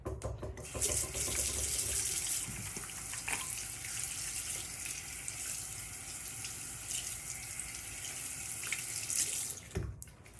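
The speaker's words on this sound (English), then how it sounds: "Let me wash my hand." Tap water runs steadily into a sink while hands are washed beneath it, a continuous close hiss and splatter lasting throughout with small splashy variations and a brief clunk near the end.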